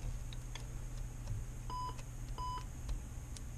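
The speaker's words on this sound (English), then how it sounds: "See, and hear beeping sound, that means good." A touchscreen tester gives two short, thin electronic beeps about a second apart, faint over a low steady hum and soft clicks.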